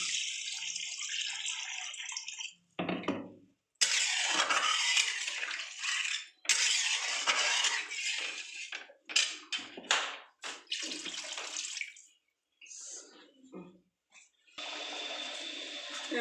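Water is poured into a pan while a fish curry cooks, a bright splashing stream that runs in several bursts with short pauses between them, close and fairly loud.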